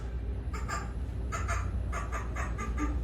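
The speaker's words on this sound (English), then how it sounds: "now the squirrel hears the crow's mating call and is intrigued" A crow caws in a rapid series of harsh, repeated calls, about six to eight in quick bursts, played as a sound effect over a steady background hum.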